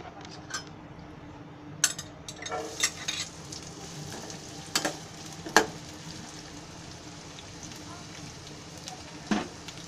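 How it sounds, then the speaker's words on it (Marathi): Chopped onion frying in hot oil over a high flame for a misal pav dish, a constant sizzling hiss broken by sharp metallic clinks and scrapes of a utensil against the pan, close by. "त्याच्यामध्ये हा कांदा टाकते. कांदा फ्राय करायचा आहे पहिला."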